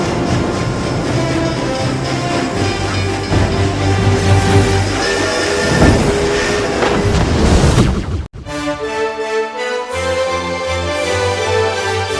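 Passenger train running between Pudukkottai and Pattukkottai, heard as a loud continuous rumble with wheel and carriage noise, then a sudden brief dropout before the rolling clatter resumes, with no talking.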